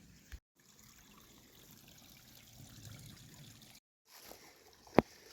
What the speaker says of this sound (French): Une petite coulée d'eau et qui rejoint la rivière.